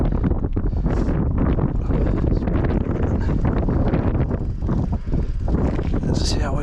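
Strong wind buffets the microphone on a steep mountain bike trail at Gisburn Forest on a freezing day, a constant loud roar and rumble that persists without break throughout.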